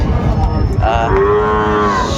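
A Sahiwal bull calf on a farm in Chuadanga, Bangladesh moos loudly and close by, one drawn-out bellow that rises then trails off, over steady low background noise.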